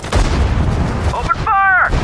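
A tank's main gun fires in the Sudden Strike 4 battle Operation Plunder: a heavy, booming report over dense battle noise, with a short voice line near the end.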